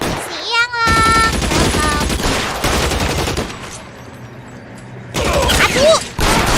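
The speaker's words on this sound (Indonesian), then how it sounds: "mari kita main tembak-tembakan lagi di sini" Rapid bursts of gunfire crackle through a shootout in the L.A. Noire video game, loud and close, mixed with shouted voices and someone talking over the action.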